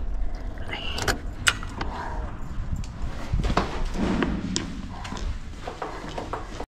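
Keys jangle and click in a lock as a door is unlocked, a run of sharp metallic taps and rattles close by over a steady low background rumble, with the noise of a car nearby.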